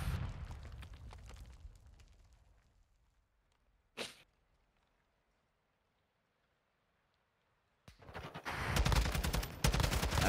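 Gunfire in the video game Fortnite, rapid bursts of shots at the start, a single sharp blast around the middle after near silence, then loud sustained firing at the end.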